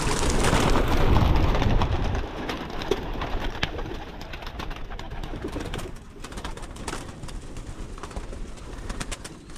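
Pigeons in a loft make a loud flurry of wing flapping and rustling up close at the start, then continue with steady softer fluttering and shuffling, with occasional coos.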